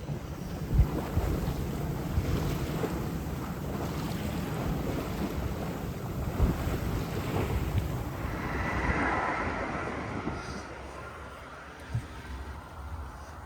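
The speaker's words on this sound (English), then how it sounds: "The bridge seems to have funneled the wind into a different direction." Steady, loud wind buffets a sailboat passing beneath a bridge in the Kattegat, roaring continuously against the microphone with a broad hiss of water and waves underneath. Nobody speaks.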